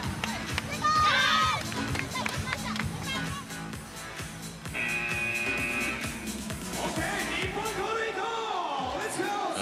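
A volleyball crowd in Japan cheers at a women's match between Japan and Serbia, with rhythmic chanting, shouts and high-pitched calls rising and falling beneath a commentator's voice.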